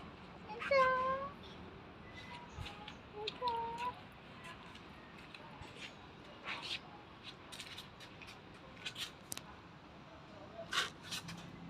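A cat meows several times, with drawn-out plaintive calls near the start and shorter ones after, while a woman softly calls to it among scattered small household clicks.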